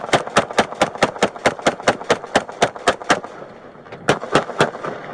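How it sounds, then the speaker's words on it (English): Rapid gunfire from a police shooting, around twenty sharp loud shots in quick, even succession, a brief pause, then a few more shots, harsh and close. "Shots fired."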